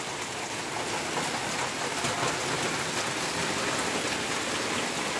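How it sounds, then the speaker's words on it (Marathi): Heavy, steady rain pours outside a house in the Konkan during the Ganesh festival season, a dense continuous wash of drops with no pauses or voices. "पलीकडे पण तिकडे ना पाऊस भरपूर आहे"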